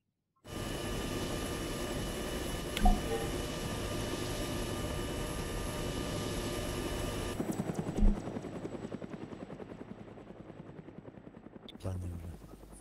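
Helicopter flying in a video game, a steady loud rotor drone with a pulsing chop that holds for most of the stretch and shifts tone near the end, with a couple of sharp thuds along the way.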